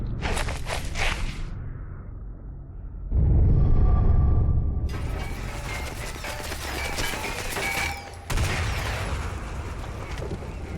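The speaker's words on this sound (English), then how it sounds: "The tanks are firing." Tank cannons fire in Sniper Elite 4, with heavy low booms and whooshing blasts, loud and close, breaking up a noisy battle scene.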